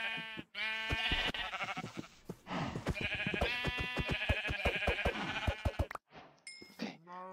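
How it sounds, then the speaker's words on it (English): Sheep bleating in Minecraft, a string of loud, close wavering bleats following one after another almost without pause, then a short gap and a few fainter sounds at the end. "Any sheep? Sheep!"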